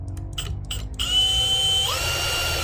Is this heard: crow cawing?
no